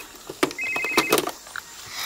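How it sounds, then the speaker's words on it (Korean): Somewhere on a jungle exploration in a children's cartoon, a telephone rings with a short repeated electronic trill, moderately loud and close, among a few sharp clicks and knocks. "웬 전화벨 소리가?"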